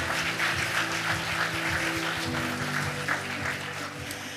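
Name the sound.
audience applause for a performance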